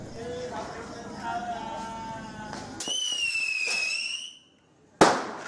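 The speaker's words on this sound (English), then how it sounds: "That firework launch went horribly. It went to the driveway and exploded and produced a lot of smoke." A firework launched on a driveway during Chinese New Year whistles up with a rising shriek, then bursts with a sharp loud bang near the end after a brief lull.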